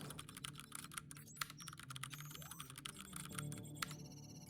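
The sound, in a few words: typing on a computer keyboard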